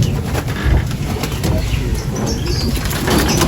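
Racing pigeons flap their wings in a continuous busy flutter close by, with a faint coo or two in the overcast loft setting, no talking over it.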